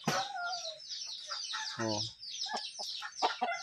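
A winning fighting rooster at a rural Philippine fiesta clucks and murmurs in short calls up close, mixed with other bird chatter, while someone speaks briefly nearby.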